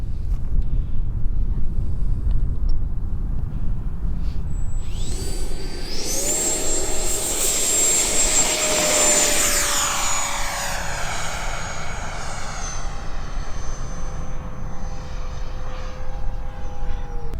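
A Freewing F-4 8s electric RC jet making a high-speed pass, its whine rising as it approaches, peaking loud overhead with a sharp pitch drop, then fading away, over wind noise.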